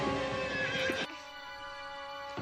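In a movie scene, horses whinny loudly over a busy rumble and clopping hooves, then the sound cuts to a quieter, steadier ambience with a faint hum.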